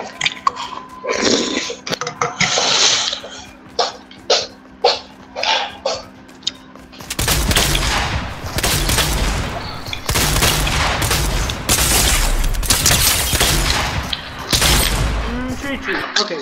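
Shotgun blasts in a video game, a run of sharp separate bangs that gives way to a dense, loud barrage of firing, with voices talking over the action.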